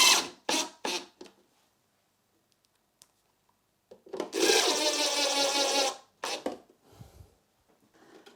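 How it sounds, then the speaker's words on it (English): Screws go in to hold a panel inside a homemade flight-sim throttle case. A few short scraping taps are followed by a steady two-second burst of whirring driving, then a couple of light knocks, all close and fairly quiet. "Shove some screws to stop the panel coming out of the case."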